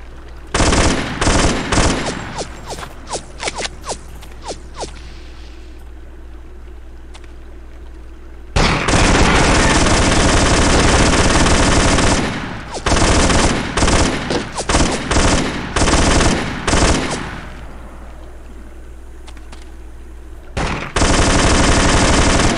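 Black Ops 2 video game gunfire comes in loud rapid bursts, starting with scattered shots and then long sustained automatic volleys, with brief pauses before more firing resumes. No one speaks.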